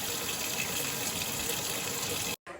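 Water runs steadily from a tap while the top of a washing machine is rinsed, a loud continuous gushing hiss that cuts off abruptly near the end before resuming briefly.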